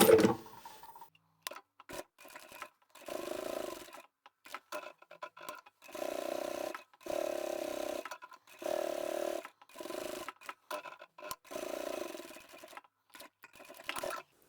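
A sewing machine stitches fabric up to the edge on a notebook storage folder, running in a series of short, even bursts separated by brief pauses.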